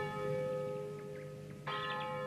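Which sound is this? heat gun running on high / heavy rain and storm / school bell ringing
school bell ringing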